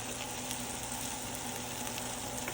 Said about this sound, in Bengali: আলু ফুলকপি ভাজি করতেছি